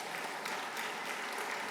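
Audience applause at an anniversary celebration for San Francisco staff members, a steady dense wash of clapping held at an even level through the whole short stretch, fairly distant and soft.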